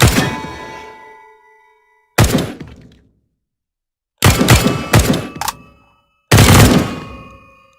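Bursts of simulated gunfire from the VR shooter Hotdogs, Horseshoes & Hand Grenades: a long decaying shot, then clusters of quick sharp reports in short rapid groups, loud and close with silent gaps between.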